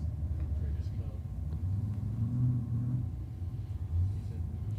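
A drag racing car idles at a dragway with a deep, lumpy low rumble that wavers unevenly, heard at moderate distance under people talking.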